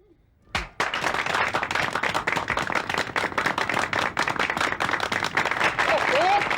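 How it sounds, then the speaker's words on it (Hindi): An audience on a Hindi comedy show breaks into clapping after a short pause, a thick, even patter of many hands that carries on steadily for several seconds. "ताली क्या बजा रहे हो?"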